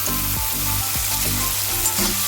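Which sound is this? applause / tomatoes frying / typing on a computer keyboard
tomatoes frying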